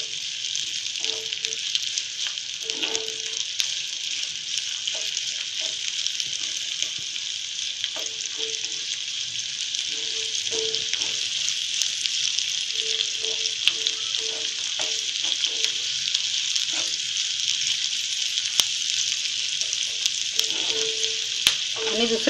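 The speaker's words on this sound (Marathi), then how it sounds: "आता हा कांदा आपल्याला चांगला भाजून करपवून घ्यायचा आहे" An onion roasting and charring in a pot, giving a constant hiss of sizzling with scattered soft clinks and knocks from stirring across the whole stretch.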